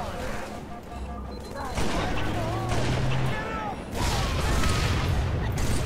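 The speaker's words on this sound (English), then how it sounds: "I'm getting fucking shit on by that grenade launcher" Grenade launcher blasts and rapid gunfire from the Halo 3 co-op mission The Ark, dense and continuous with booming explosions, under overlapping game voices and players talking.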